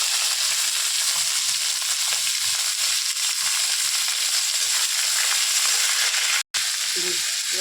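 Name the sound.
frying vegetables: beans, carrot, potato, onion, curry leaves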